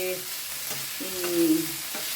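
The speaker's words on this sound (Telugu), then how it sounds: "కొంచెం పచ్చివాసన పోయే వరకు వేయించాలి" Homegrown ridge gourd and green chillies sizzle steadily in a pan for chutney, a continuous close frying hiss with faint stirring and a brief tonal whine over it.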